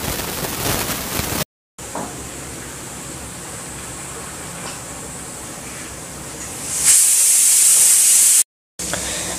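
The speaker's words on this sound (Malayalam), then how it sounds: "പിന്നെ കുറച്ച് വെള്ളവും കൂടെ ചേർത്തിട്ട് ഇത് നല്ല പോലെ അരച്ചെടുക്കുക." Electric mixer-grinder whirring as it grinds cumin, black pepper, green chilli and coconut with a little water into a paste, a steady loud hiss that stops briefly, restarts, rises in pitch and cuts off.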